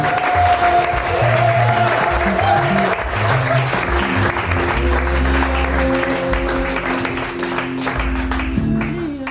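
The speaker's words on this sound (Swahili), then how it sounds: "Pia Bwana makofi mazuri." Congregation at a Sunday church service giving loud, sustained applause, dense clapping that fills the room and rolls on with music playing underneath.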